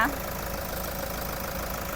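A 2018 diesel car engine idles at a steady low rumble with a faint even knock, continuous and moderately close, after a brief sound at the very start.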